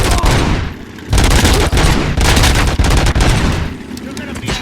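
Rapid bursts of video game gunfire crackle loudly throughout, with dense broadband shots in clustered volleys and brief lulls, under shouted voices in the background.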